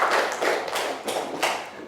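A short burst of classroom applause for a student, a few scattered claps landing irregularly and close by over a little less than two seconds.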